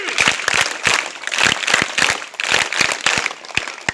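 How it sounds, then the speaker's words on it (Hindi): Audience at a government higher secondary school event in Madhya Pradesh clapping in a steady, lively burst of applause that rises and falls in waves for several seconds, close and fairly loud. "इसलिए तालियां हर प्रकार से बढ़िया बजाएं।"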